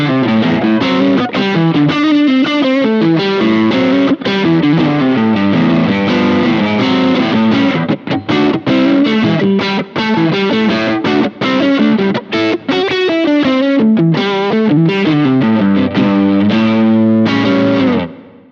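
Bluesy electric guitar solo on a Kemper preset, expressive bends and quick licks mixed with sustained notes, mildly overdriven and loud throughout.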